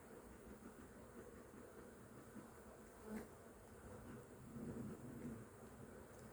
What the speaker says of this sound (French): Hop, j'ai un peu d'abeilles sur le côté.